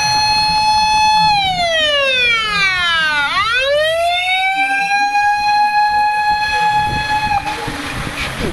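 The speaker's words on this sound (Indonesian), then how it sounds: "Di sini ada mobil damkar," A wailing siren with bright stacked tones sweeps down and back up, loud and close, with a clattering rumble underneath like a toy vehicle.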